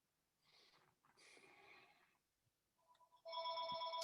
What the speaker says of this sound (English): I'm going to get that phone.